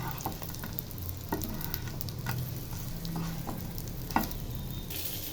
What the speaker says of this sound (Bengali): সেটাও ভাজি করা চলছে।